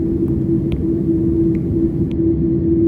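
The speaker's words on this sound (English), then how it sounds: "This takeoff was much more powerful than what I experienced a month ago" A steady, loud roar fills the cabin of a Boeing 747-8 as it takes off on an Air China flight, a continuous engine drone with a faint sustained hum and no talking.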